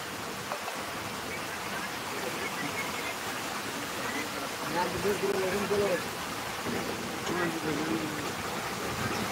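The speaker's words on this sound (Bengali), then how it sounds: "আরে বাবা কি লেভেলে বৃষ্টি হচ্ছে, আরো জোরে বৃষ্টি চলে আসলো" Heavy rain pours steadily, a dense, even wash of falling water that swells slightly midway and continues throughout without a break.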